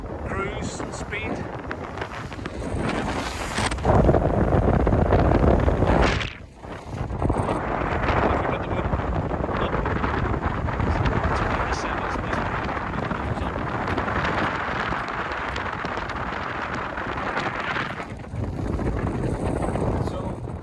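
Strong wind buffets the microphone on the open flybridge of a 2003 Viki 32 Fly motor cruiser on a windy day, a constant loud roar with gusts, with someone talking beneath it.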